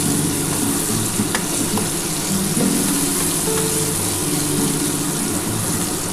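Spices frying in a pan before banana flower goes in, giving a loud, continuous sizzle close up throughout, with faint stirring and no talk.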